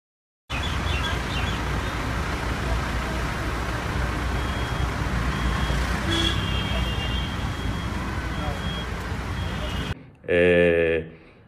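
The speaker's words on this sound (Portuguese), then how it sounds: "um pouquinho do trânsito maluco de Nova Delhi" Busy street traffic in New Delhi makes a continuous roar of engines and road noise, with occasional horn-like tones over the steady rumble; a short burst of speech comes at the end.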